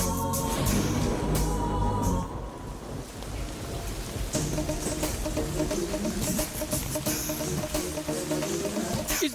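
Heavy rain pours steadily in a thunderstorm scene from a dubbed South Indian comedy film, a loud broadband hiss with rumbling underneath, joined later by music-like tones and clatter.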